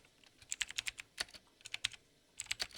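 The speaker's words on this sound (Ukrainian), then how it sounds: "Ось так звучить неповторний оригінал." Rapid, clacky keystrokes on a Hator Rockfall 2 Mech budget mechanical keyboard come in quick bursts with short pauses, loud and close with a slightly rattly, plasticky edge.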